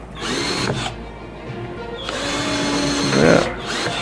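A cheap cordless battery drill with a somewhat blunt bit bores into 2 cm thick teak pallet wood. It gives two short bursts of whirring motor sound separated by a brief pause, close and fairly loud.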